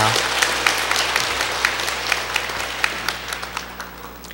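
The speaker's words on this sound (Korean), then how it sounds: "하나님께 영광의 박수 올려드리겠습니다" A Korean church congregation claps during a Sunday worship service, a dense, sustained round of applause filling the hall, with distinct sharper claps popping out over a low steady hum.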